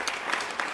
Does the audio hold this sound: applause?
yes